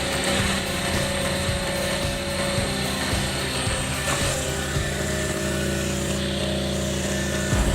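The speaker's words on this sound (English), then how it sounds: "The stump grinder uses a sharp grinding wheel with teeth made from highly abrasion-resistant alloy, rotating at extremely high speeds to cut, grind, and crush each layer of wood" A large stump grinder with a toothed alloy cutting wheel chews through a tree stump and roots, a loud, continuous roaring drone broken by rough grinding and crunching bursts.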